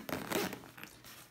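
A zipper runs along the L-shaped side pocket of a small Manfrotto Advanced camera holster case, with a few quick close pulls and short pauses between them.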